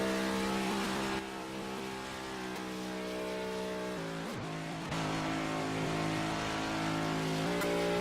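Carvana Cup race car engine at Advance Auto Parts GP qualifying, heard onboard during a fast lap: loud, steady high-revving drone with gear-change dips and pitch shifts, continuous and close.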